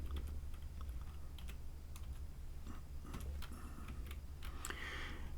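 A computer keyboard is typed on steadily while entering a loan payment, with quick irregular key clicks over a constant low hum of background noise.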